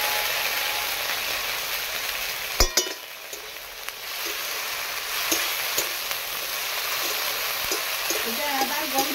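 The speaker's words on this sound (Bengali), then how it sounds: "আমি ভাজতে থাকবো, কষতে থাকবো মশলাটাকে" Ginger and green chili paste frying with garlic in a hot pan gives a steady close sizzle with scattered stirring scrapes, briefly dipping once before the hiss resumes.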